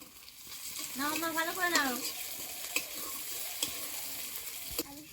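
Dal tipped into a hot pan sizzles steadily while a spoon stirs and scrapes through it, with a voice talking over the cooking noise.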